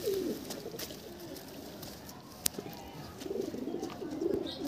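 Pigeons coo in a loft, a steady murmuring chorus of overlapping low calls running throughout, fairly close, with a brief sharp click midway and faint background voices.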